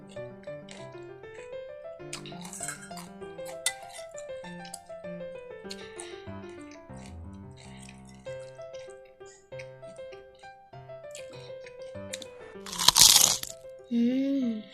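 Close, loud crunchy chewing of a large bowl of Thai rice noodles (khanom chin) with crisp vegetables, repeated bites heard over tinkling background music.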